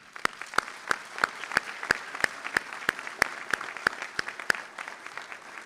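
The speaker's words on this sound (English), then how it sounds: "you all deserve a thunderous round of applause from us all" Applause at a university commencement ceremony comes through as a steady series of sharp, evenly spaced claps, roughly three per second, close and distinct rather than a dense crowd wash, with no talking.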